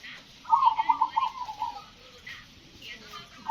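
A zebra dove coos in a soft, rhythmic series of low notes, close by, with faint outdoor midday background and a voice speaking quietly around it.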